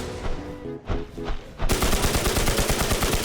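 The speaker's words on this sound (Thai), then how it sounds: "ยิงบอสอีก 4 ตัวครับผม" Gunfire while shooting bosses in the game Infestation The NewZ, starting with a few separate shots and then turning into loud, rapid, sustained automatic fire that fills the rest of the clip.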